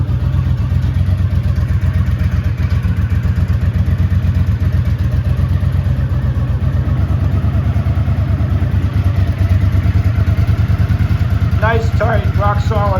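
A 1983 Honda GL650 Silverwing Interstate motorcycle engine on a cold start settles into a steady, even idle, loud and close with a rapid regular firing pulse throughout, and a brief voice near the end.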